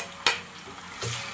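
Ginger-garlic paste drops onto fried onions in a hot pan for a bottle gourd and moong dal curry. A sharp clink of the stirring spoon comes first, then a short burst of sizzling.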